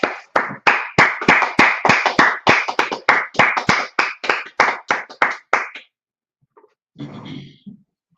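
A group of people clap together in a steady, even rhythm of loud, sharp claps for about six seconds, then stop, followed by a short burst of voices.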